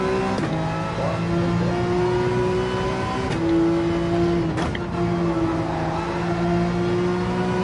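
A race car in Gran Turismo 7 on the Sardegna circuit, engine note holding high and steady at full throttle in fifth gear, with brief transient blips between sustained tones and faint talk underneath.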